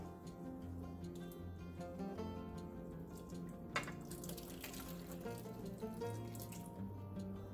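Hot water running and splashing into a container of leaves for dyeing paper, steady and close, with a few drips and a brief clunk midway.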